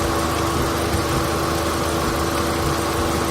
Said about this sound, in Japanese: これで、エンジンかけてみますね。